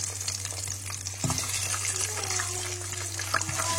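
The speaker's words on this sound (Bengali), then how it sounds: "নাগেটস তো ভেজে নিবো কয়টা" Chicken nuggets fry in hot oil at home, giving a steady soft sizzle with a few brief clinks and bubbling shifts, close and moderately quiet, with no talking.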